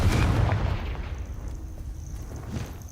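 A Confringo fire spell blast in Hogwarts Legacy, a heavy booming explosion that starts loud and rolls into a dense rumbling decay lasting a few seconds.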